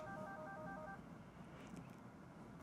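Ringtone preview playing through the speaker of a Poly E400 desk phone: a short melodic tone pattern for about a second, then fading into steady background noise, with no talking.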